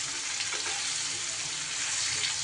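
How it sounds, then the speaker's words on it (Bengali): Chopped tomato with salt sizzles steadily in a hot frying pan over a lowered gas flame, a dense continuous hiss with faint stirring scrapes, close and fairly loud, no talking. "একটু গ্যাসটা কমিয়ে দিয়ে এইভাবে নাড়াচাড়া করব।"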